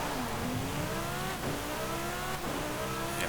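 A 2018 Lotus Exige Cup 430 accelerates hard in Forza Horizon 5, its engine note climbing loudly in rising sweeps broken by quick gear shifts, with no talk over it.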